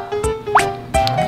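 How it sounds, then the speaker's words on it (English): Hot water poured into a small cup holding ginger slices, lemon and salt, giving a few close, short splashy drips and plops over about a second. "The next step is to add hot water to this cup."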